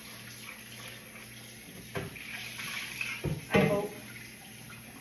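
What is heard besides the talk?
rinsing tea-dyed fabric napkins in water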